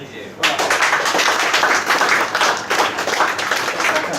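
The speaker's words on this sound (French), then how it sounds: "Alors Auguste Griset, on peut l'applaudir aussi" Applause breaks out for Auguste Griset, a chef at a Cep d'Or 2015 restaurant award ceremony at Le Dodo in Mauritius, starting abruptly after a short pause and holding as steady, dense clapping from a crowd nearby.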